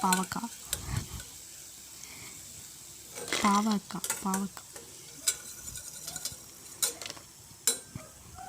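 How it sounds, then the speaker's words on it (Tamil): Bitter gourd chips fry in a pan of hot oil with a soft steady sizzle, broken by repeated scraping and clinking of a utensil stirring them, moderately close, with brief talk in between. "பாவக்காய் வறுவல் நான் போடுறேன்."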